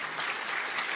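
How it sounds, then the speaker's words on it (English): An audience applauds at the close of a university lecture on clinical judgment, a dense, steady wash of many hands clapping that continues without a break for the whole second. "You're clapping because it was 20 minutes and 8 seconds."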